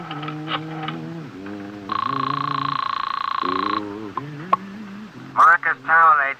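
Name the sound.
telephone call being made in radio drama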